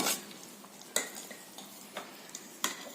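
A spatula stirring hot sugar syrup into flour for sugar adhirasam, with sharp intermittent scrapes and taps against the vessel over quiet background, several distinct strokes spaced across a few seconds.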